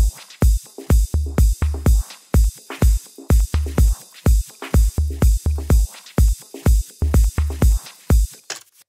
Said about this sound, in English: You can hear that echo going on in the background.